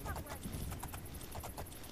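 A horse gallops in the video game Oblivion, its hooves clip-clopping in a quick, steady rhythm that sits faint and low under a hiss of background noise.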